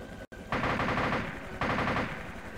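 Sustained automatic gunfire in the DayZ Mercenary game, a dense rapid rattle of machine-gun bursts that cuts out for a moment, then resumes loud and close, with a second heavier burst joining partway through.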